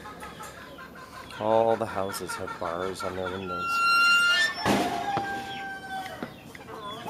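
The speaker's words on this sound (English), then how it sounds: "he's feeding chickens." Chickens cluck repeatedly nearby in rhythmic bursts, with a rooster crowing and birds chirping, while a person talks over them.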